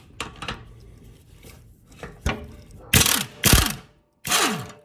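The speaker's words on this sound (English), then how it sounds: "For quickness, you know me and my impact, so let's get her out." An impact wrench removes 15mm bolts on a John Deere LA145 mower, firing in short rattling bursts; a few lighter hits come first, then three loud, close hammering runs with brief pauses between.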